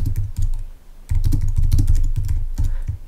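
Rapid keystrokes on a computer keyboard while text is typed into a design program, with dense bursts of clicks broken by brief pauses, close and clear.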